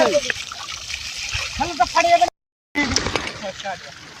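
Village boys bathe with water splashing and trickling in the background, mostly under their lively chatter, with a brief cut to silence midway before the splashing and talk resume.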